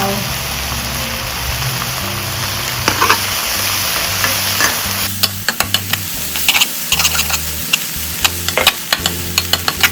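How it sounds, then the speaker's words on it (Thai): Garlic flowers fry in a wok with sugar, oyster sauce, fish sauce and water. A steady sizzle gives way to loud, brisk stirring, with rapid clanks and scrapes of a spatula against the metal. "ผัดเลยนะคะ"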